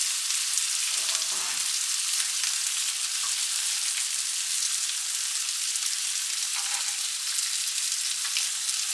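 Bacon and eggs sizzle on a flat griddle with a steady, dense hiss of frying fat, constant and close, with no talking over it.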